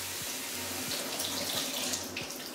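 Cold water running from a tap into a sink or bowl to soak halibut, a steady close splashing stream that continues unbroken with no talk.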